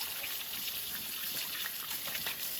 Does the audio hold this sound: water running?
yes